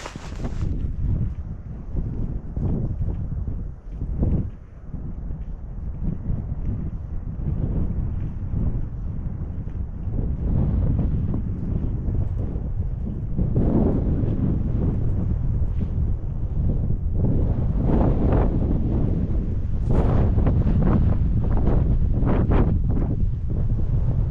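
Strong wind roars continuously across a snowy mountainside at about 1,100 metres during a heavy snow warning, with heavy gusts buffeting the microphone for the whole stretch and rising harder near the end.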